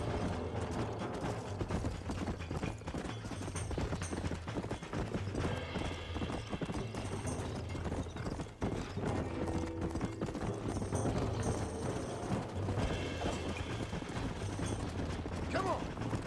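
A horse's hooves clip-clop at a steady walking pace in the video game Red Dead Redemption, mixed with mechanical clicks, tack rattles and a brief whinny, continuous and fairly loud for over fifteen seconds.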